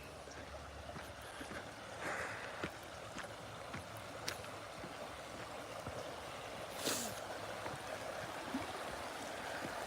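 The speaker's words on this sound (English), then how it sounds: "Here's the stream inside the forest, though." A forest stream flows with a steady, soft wash of water, faint and continuous, broken by occasional small splashes and footsteps or movement nearby.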